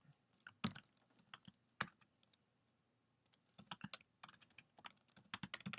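Someone types on a computer keyboard in a quiet room, with irregular bursts of close, crisp keystroke clicks separated by short pauses.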